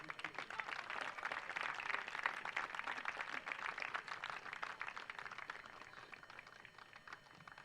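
Sustained, dense crowd applause rings out for young men honored at a 2021 high school football game between the Sterling Black Bears and Marion Warriors, steady and fairly loud throughout with no clear talk.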